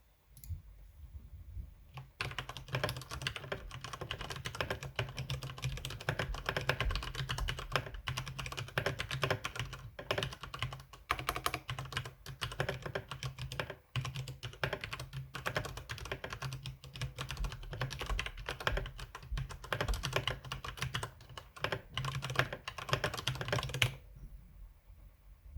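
Steady, rapid typing on an elevated computer keyboard with modified feet for better acoustics, dense clacking keystrokes that run continuously for over twenty seconds, close and clear, with brief silence at both ends.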